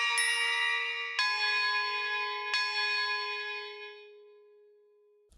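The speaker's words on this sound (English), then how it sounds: "to finish off the instrumentation, I add some bells and a synth for some ear candy." Layered bell tones and synth in a boom bap beat programmed in Maschine: three struck bell notes, each ringing with bright overtones and slowly decaying, with no other sounds.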